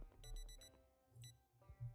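An alarm clock rings in the survival game Project Zomboid, a faint electronic beeping in short repeated pulses with a pause between bursts.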